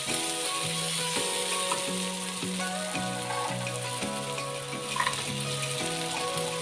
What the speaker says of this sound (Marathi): लसूण सुद्धा आपली खरपूस होईपर्यंत चांगली भाजून घ्यायची आहे.